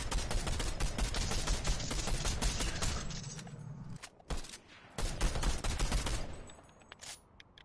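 Rapid automatic gunfire in the video game Fortnite, long dense bursts of shots with a brief pause and then renewed fire, loud and continuous with no talk over it.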